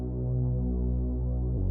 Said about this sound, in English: We just have like a metallic reese, like a muted reese in the background that sounds like this.